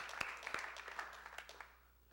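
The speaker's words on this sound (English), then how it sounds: "So give yourselves a round of applause for supporting true art and culture in Trinidad and Tobago with your presence." Applause from an audience at an art, jazz and poetry event in Trinidad and Tobago, a steady dense clatter with a few sharper claps that fades toward the end.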